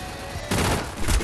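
Dense gunfire in the mobile battle-royale game Free Fire, a loud continuous burst that jumps in intensity halfway through, with rapid overlapping shots and low booms.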